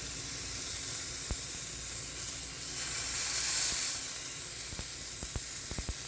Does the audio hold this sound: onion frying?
yes